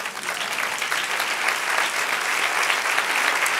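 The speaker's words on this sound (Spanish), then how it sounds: "Denle un aplauso al Señor." Steady applause from a large church congregation, dense and loud, with even clapping that continues throughout without pause.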